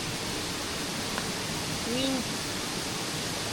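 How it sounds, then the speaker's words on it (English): Steady, dense rushing water fills the whole clip, a constant roar like a nearby waterfall, with a brief faint voice partway through. "what kind of sounds do you hear? The waterfall?"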